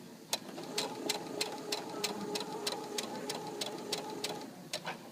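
A sewing machine stitches a mitered quilt binding, running steadily with a rapid mechanical whir and regular sharp clicks about every half second, close and alone without talk.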